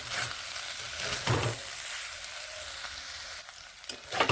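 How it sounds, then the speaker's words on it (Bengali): Poppy seeds and onion stalks stir-fried together in a pan give a steady, close sizzle with occasional scraping from stirring, alone with no talk. "পোস্তদানা ছড়িয়ে বেশ ভালোভাবে এগুলোর সঙ্গে মিশে আরও এইভাবে নেড়ে ভেজে নিচ্ছি"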